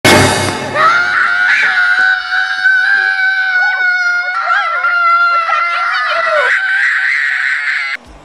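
A boy screams loudly and continuously for several seconds in a movie scene, his shrill voice wavering and straining before cutting off abruptly.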